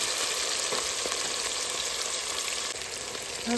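Large onions frying in a pan for coconut milk mutton biryani, a loud, dense, close sizzle that holds steady throughout with only faint stirring.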